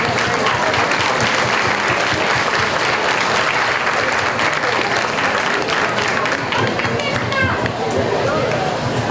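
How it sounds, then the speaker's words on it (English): A crowd at a county fair lamb show applauds exhibitors steadily for several seconds, dense clapping with some scattered chatter and voices mixed in near the end. "give these exhibitors a round of applause."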